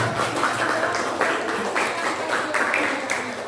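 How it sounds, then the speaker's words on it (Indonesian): A classroom group claps for presenting students after a group report, a loose burst of hand claps mixed with a murmur of voices throughout. "tepuk tangan kepada"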